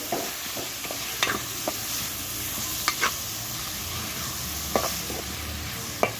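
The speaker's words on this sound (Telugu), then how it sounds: "ఇప్పుడు ఇందులోనే టమాటాలు కూడా వేసేసుకోవాలి. ఇప్పుడు టమాటాలు, ఉల్లిపాయలు, ఎల్లుల్లిపాయ బాగా మగ్గిపోవాలి." Tomatoes, onions and garlic sizzle steadily in a pan over a wood-fired stove for egg tomato curry, a continuous moderate frying hiss broken by a few sharp scrapes and clinks of stirring.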